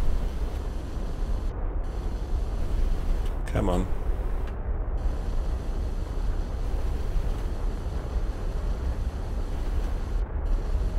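Rocket engines firing in Kerbal Space Program, a rover pushing against wheel friction: a steady, loud, hissing roar runs throughout with one brief tonal sweep partway in, and someone speaks briefly over it.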